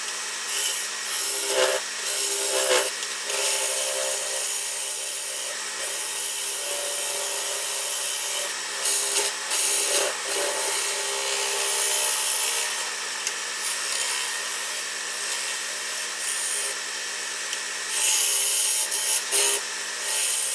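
Cedar vase blank being shaped on a wood lathe, with a steady close scraping hiss of the tool on spinning wood, broken by short pauses and bursts, no talking.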